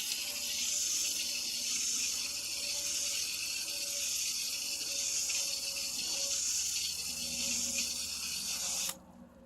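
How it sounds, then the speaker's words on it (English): A garden hose pours water steadily onto bagged potting soil. The spray gives an even, continuous rushing hiss, fairly close, that cuts off abruptly near the end. "I'm going to water it, kind of let it soak in, and then I'll hit it again with the hose"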